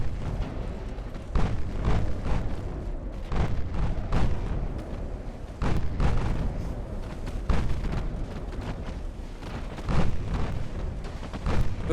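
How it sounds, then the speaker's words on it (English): Naval 5-inch guns fire in Ultimate Admiral Dreadnoughts during a battle with a battle cruiser off Casablanca. Repeated deep booms land every second or so over a constant heavy rumble of battle, with no talk. "The 5-inch guns are also firing."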